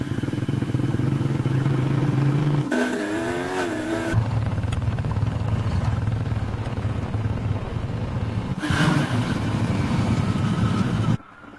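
Motorbike riding through countryside, engine droning and revving with pitch rising on acceleration, gear changes and a couple of louder bursts, close and continuous before cutting off abruptly at the end.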